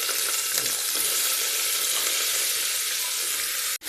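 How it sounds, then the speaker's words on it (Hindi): Broad beans and potatoes fry in a small amount of oil, giving a dense, steady, close sizzle with faint stirring that stops briefly at the very end. "अब आज हम सबसे पहले ये सेम आलू को थोड़ा भून लेते हैं।"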